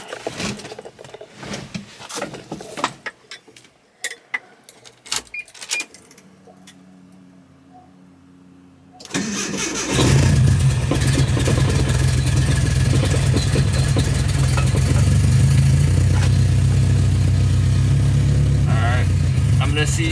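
A 1994 Nissan Hardbody D21 pickup truck engine cranks and starts after quiet handling noises, then settles into a steady, loud, close idle for the remaining ten seconds.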